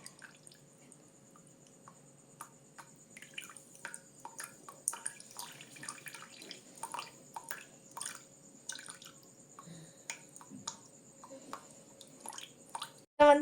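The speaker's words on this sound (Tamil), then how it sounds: "அரைச்சி வச்ச அரிசியை பால் எடுப்போம்." Milk is squeezed by hand from ground black kavuni rice, with soft wet squishes and irregular drips of liquid falling into a bowl, quiet and close, under a faint steady hum.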